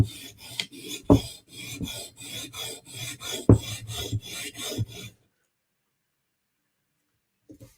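A blade bevel being sharpened late at night: steady, rhythmic rasping strokes scrape back and forth for about five seconds, with a couple of harder knocks, then stop into near silence.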